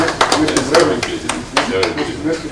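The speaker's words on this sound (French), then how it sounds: "Il faut l'applaudir." Applause breaking out at a tournament prize presentation, with a cheque handed to a finalist; scattered claps ring fairly close and loud under overlapping voices.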